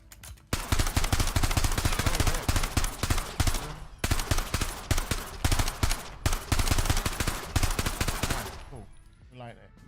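Rapid bursts of automatic fire from a low-recoil gun in a video game, loud and close, rattling in long strings broken by short pauses, with faint voices near the end.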